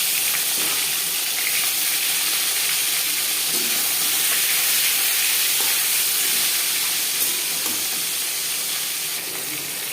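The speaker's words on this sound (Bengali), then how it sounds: "তিন চামচ রিফাইন্ড অয়েল গরম করে নেওয়ার পর দিয়ে দেবো মাছ" Fish frying in hot refined oil in a large wok gives off a loud, steady, close sizzle and hiss that lasts throughout, with no talk over it.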